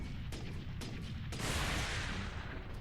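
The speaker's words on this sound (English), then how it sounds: "Missile launcher." Missile launcher fire in the Warhammer 40,000: Space Marine video game, a few sharp reports followed by a heavy rumbling blast that swells and lingers, close and forceful over a constant low roar.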